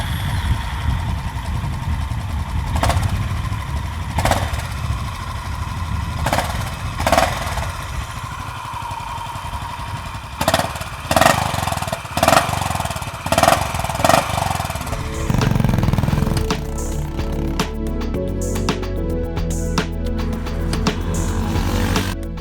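A Honda CB350RS motorcycle engine idles with a steady, close exhaust rumble, punctuated by a series of sharp throttle blips, then settles into a continuous lower-pitched drone with no talking.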